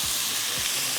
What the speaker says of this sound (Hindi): थोड़ा इसको आपने भूनना है ताकि इसका कलर थोड़ा चेंज हो जाए, लहसुन के साथ